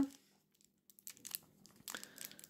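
A plastic sachet of parts from a Millennium Falcon model kit is torn and crinkled open at close range, with sharp rustling bursts separated by short pauses, and some crackling toward the end.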